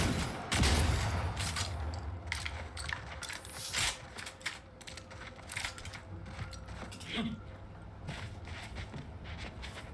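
A shotgun fires in the video game The Outer Worlds 2: a few loud, booming blasts stand out over busy, continuous game noise and movement.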